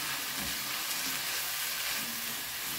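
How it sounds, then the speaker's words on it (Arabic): Garlic and onion sizzle in a frying pan with a steady hiss that runs through the whole stretch, faint and close, with no talk. "كنسيزو معاها الثوم والبصل ديالنا."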